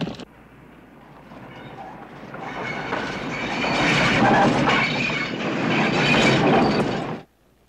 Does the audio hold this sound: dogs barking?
no